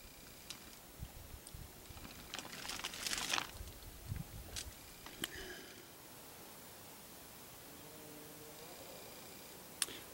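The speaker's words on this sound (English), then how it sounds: "You can probably hear the tarp rustling." A tarp shelter in a snowy camp rustles and crinkles in a light breeze, with soft irregular bursts that rise briefly before settling back into a quiet, hushed outdoor background.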